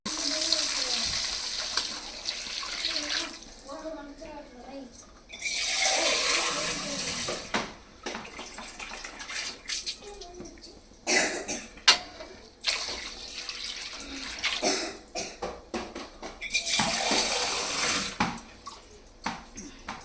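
Water is poured into a pan of Maggi noodles with masala, giving gushing bursts of splashing and running water between quieter moments, with people talking nearby.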